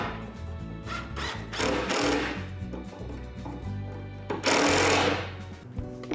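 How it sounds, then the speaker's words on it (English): Screws driven from underneath to fix metal pipe clamps to wood for a rolling clothing rack, two bursts of loud whirring driver noise with a brief pause between, close by. "We're just gonna screw them in from underneath and they won't fall off."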